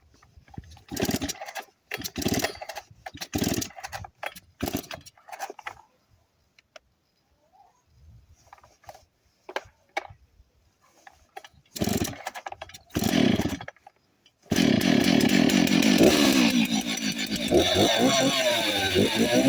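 A Stihl chainsaw is pulled and started: a few short sputtering bursts, a gap of quiet, then more tries before the engine catches at about 14.5 seconds and runs steadily and loudly to the end.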